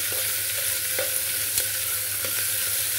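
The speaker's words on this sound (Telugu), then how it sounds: "ఇందులో 2 పచ్చిమిర్చి, 1 ఉల్లిపాయ, 1 క్యారెట్ చిన్న చిన్న ముక్కలుగా కట్ చేసుకొని వేసుకుందామండి." Chopped green chilies, onion and carrot sauté in a pan for a coconut basmati rice dish, a steady near sizzle broken by several sharp spatula scrapes and taps, with no voices.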